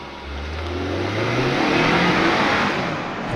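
A 2021 Acura TLX A-Spec with its 2-liter VTEC turbo four-cylinder pulls hard from a standstill, engine note rising steadily in pitch through a sustained loud run, with no talking over it.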